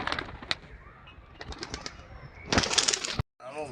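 Released pigeons flap their wings in short bursts, with a louder flurry of wingbeats late on, soft cooing and chirps mixed in, close by.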